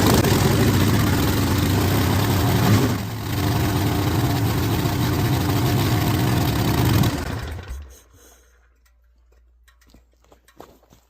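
A Harley Sportster 1200 engine idles with a loud, lumpy, uneven throb for about seven seconds, then shuts off and fades into quiet with a few faint clicks.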